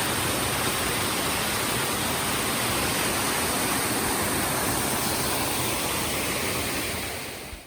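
A small waterfall on the Appalachian Trail, swollen after recent rain, roars as a steady, dense rush of falling water that stays loud and unbroken throughout.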